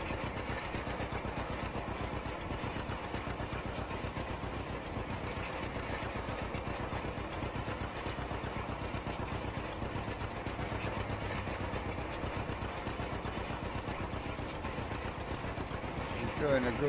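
A 1949 John Deere A tractor in Farming Simulator 25 chugs steadily at close range while rolling wheat, its engine pulsing evenly and continuously for the whole stretch with no break.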